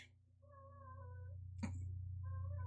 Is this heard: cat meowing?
yes